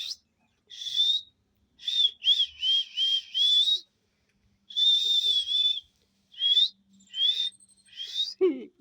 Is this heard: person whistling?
yes